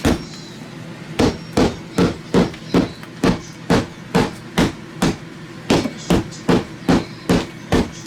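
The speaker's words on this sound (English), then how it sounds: "I'm going to take my hammer" Sharp, rapid hammer blows knocking out drywall, roughly two per second in a steady rhythm, loud and close with a dull thud to each hit.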